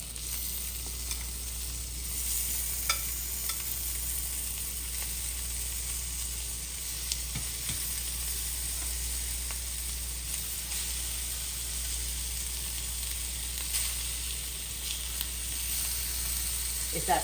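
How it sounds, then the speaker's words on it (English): Shrimp cooks in a hot pan for lobster ravioli, giving a steady, even sizzle throughout with occasional faint pops and clinks under a constant background hiss. "you don't have to have the shrimp cooked for a very long time, okay? It's very fast, it cooks fast."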